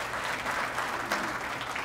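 An audience at a school district address applauds, a faint, even wash of many hands clapping from a distance for a couple of seconds.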